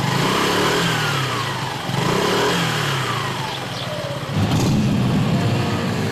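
A Harley-Davidson motorcycle engine rumbles close and loud, with throttle blips and revs rising and falling, then a deeper surge of power near the end, with no voices.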